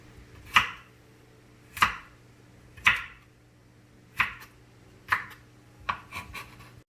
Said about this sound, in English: Gotta like dice them up.